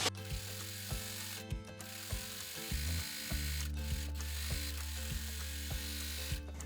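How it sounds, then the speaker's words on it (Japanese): An overlock serger stitches a seam allowance on a garment side seam, at first through two layers and finishing on one, giving a steady close mechanical whir with rhythmic needle ticks and a few brief pauses. "途中までは2枚一緒にロックミシンをかけてるけど、最後は1枚だけになります"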